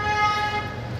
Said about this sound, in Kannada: ಇಲ್ಲೂ ಹಾರನ್ ಸೌಂಡು.